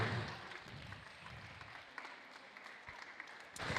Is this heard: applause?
yes